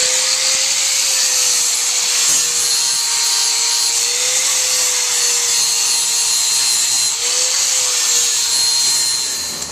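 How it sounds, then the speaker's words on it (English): A flap wheel on a grinder works inside a Harley-Davidson Sportster gas tank, abrading the steel pinch weld that holds the fuel filler, a steady loud abrasive whine over a motor hum that sags slightly under load, with no voices. "we're going to get inside the tank with a flap wheel and take off the pinch weld that's holding the fuel filler in"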